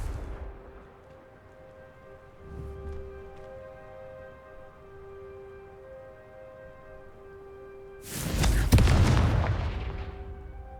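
Confringo fire spell in the Hogwarts Legacy video game, a sudden loud booming explosion with a crackling burst that decays over a couple of seconds, following a quiet stretch of ambient game music and hum.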